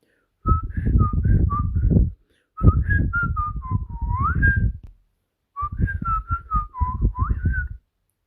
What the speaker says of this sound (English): with such big grin on his face, and he whistled on his way home